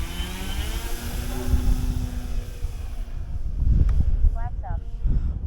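An E-Flite Turbo Timber SWS RC plane powers up for takeoff on a windy day, its electric motor whine rising steadily over heavy wind rumble, then thinning into the distance as it climbs, with a brief voice near the end.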